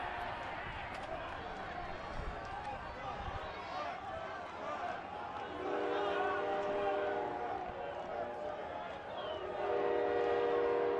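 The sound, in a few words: train arriving with train horn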